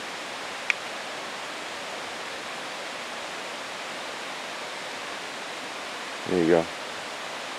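A brook flows far below at the bottom of a steep gully, heard as a steady, soft, even rush of water that runs throughout. A short spoken remark comes near the end.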